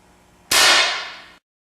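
A BB gun fires a BB into a ballistic pendulum from two feet away: one sharp, loud crack with a bright impact that rings and fades over about a second, then silence.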